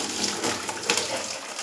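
Rose water pours steadily from a small vessel during a ritual puja offering, making a soft continuous trickle and splash, close and fairly quiet.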